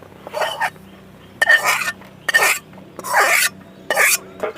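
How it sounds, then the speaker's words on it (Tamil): Coconut laddu mixture with fried raisins is stirred in a pan, giving repeated scraping, rubbing bursts in an irregular rhythm, close and fairly loud with short quiet gaps between strokes. "எல்லாம் சேர்த்து நல்லா கிளறிக்கலாம்"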